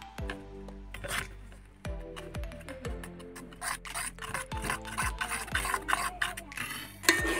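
A whisk clinks and scrapes against a bowl while milk powder is beaten into milk, with irregular quick strokes that build into a busier, rhythmic stirring toward the end.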